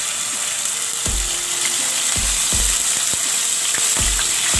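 Ginger garlic paste fries in hot oil and butter with a dense, bright, steady sizzle, marked by repeated low knocks of a spoon against the pan at regular intervals.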